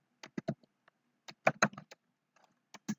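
Keys on a computer keyboard are tapped in short clusters of crisp clicks with brief pauses between them, close and fairly quiet against a silent background.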